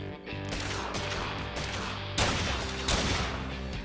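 Dense rapid gunfire rattles continuously in a firefight in the game Fallen Earth, loud and close, with heavier bursts punching through the sustained volley.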